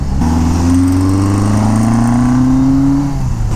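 A Kawasaki KZ1000 motorcycle engine drones loudly and steadily while being ridden, its pitch slowly climbing as the rider accelerates, with wind noise underneath.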